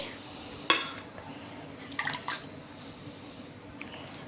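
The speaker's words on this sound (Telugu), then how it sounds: "ఇప్పుడు ఒక గిన్నెలోకి నీళ్ళు తీసుకొని ఇందులో కొత్తిమీర పుదీన వేసుకొని శుభ్రంగా కడుక్కోవాలండి" Coriander and mint leaves being washed in a bowl of water, a sharp clink of the bowl followed by quiet splashing and dripping swishes, faint and close.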